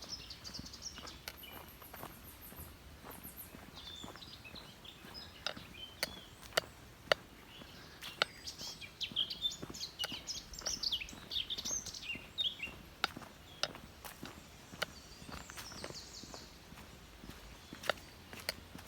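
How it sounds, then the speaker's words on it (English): Birds singing along a forest hiking trail near Naurod in Germany: scattered chirps and short songs, fairly faint, over crunching footsteps and sharp clicks on the path, with no talking. "Birds and stuff."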